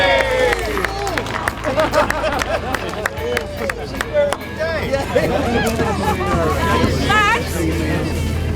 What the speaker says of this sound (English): what about a big cheer for Dave Abbott?